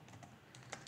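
A few quick, soft keystrokes tap on a computer keyboard while entering a Python input command, a faint burst of clicks lasting under a second.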